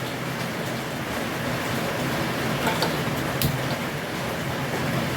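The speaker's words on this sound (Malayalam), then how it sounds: "ഇവിടെ നല്ല മഴയാണ് കേട്ടോ പെയ്യുന്നത് അതാണ് ശബ്ദം കേട്ടോ" Heavy rain falls outside a home kitchen as a continuous, hissing wash of noise, even and moderately loud, with no talking over it.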